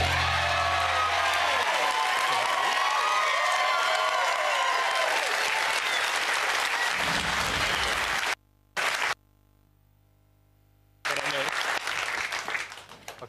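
A studio audience on the 2007 game show Deal or No Deal bursts into loud, sustained applause that stops abruptly, leaving a brief near-silence before sound returns.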